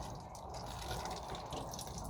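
Cabernet Dorsa grape juice runs steadily from a hand-worked press, a continuous close trickling and splashing stream of liquid with no talk over it.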